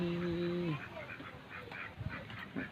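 A nasal honking call opens the clip, followed by scattered quacks and soft bird chatter outdoors. It is faint and mixed with low background voices.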